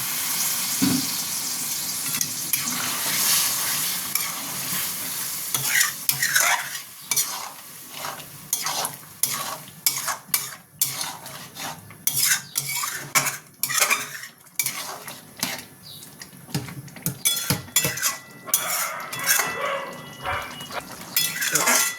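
Chicken keema fries in a pan as water goes in, then a spoon scrapes and clatters against the metal in quick, uneven strokes over a steady sizzle.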